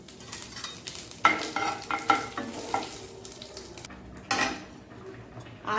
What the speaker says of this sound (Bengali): মাছ ভাজার তেলের মধ্যে জিরে তেজপাতা ফোড়ন দিয়ে দিলাম।